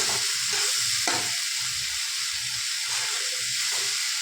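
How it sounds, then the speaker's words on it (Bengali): Fish frying with garlic and tomato paste makes a constant bright sizzle with soft, rhythmic stirring knocks underneath, close and steady, no speech. "রসুন আর টমেটো বাটাটা দিয়ে এটা ভালো করে লাল লাল করে ভেজে নেবো।"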